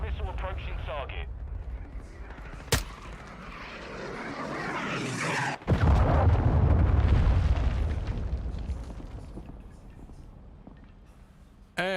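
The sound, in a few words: cruise missile explosion in Call of Duty MW2 video game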